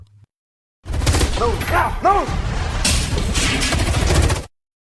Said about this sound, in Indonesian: Ledakan keras mengguncang ruangan.